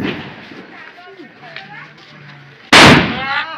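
A sutli bomb firecracker set off outdoors during Diwali bursts with one sharp, loud blast after a stretch of young voices talking and calling out nearby.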